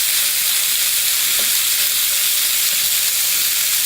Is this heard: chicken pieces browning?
yes